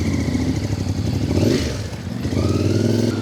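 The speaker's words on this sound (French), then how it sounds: "Il y a un gars qui a pris sa moto." A motorcycle in Morocco rides off with a continuous engine drone that rises and dips as it revs, loud and close throughout with some rattling clatter.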